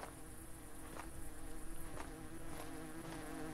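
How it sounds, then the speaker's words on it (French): Bees buzzing in the video game Hungry Lamu, a steady faint insect drone with soft pulsing swells, heard alone without talk. "Ok, donc là c'est là où on a mis les abeilles."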